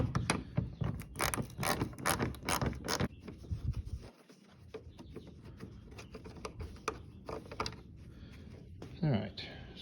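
A 7mm socket clicks and ratchets as headlight screws are loosened on a 2014 GMC Yukon, close and busy with a few short pauses, while a voice speaks over part of the work.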